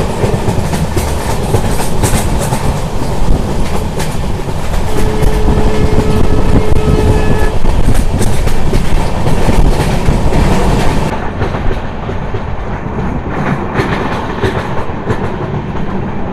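A Siliguri-based diesel locomotive hauls a Kolkata to Sairang passenger train through hilly country, with steady loud wheel clatter and rumble throughout that drops slightly toward the end, no voices.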